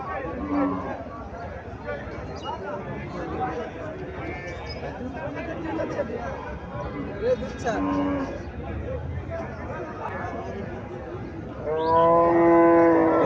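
Friesian dairy cows at a livestock market give drawn-out moos, one clear call near the end standing out loud and close, amid steady crowd chatter and background bustle.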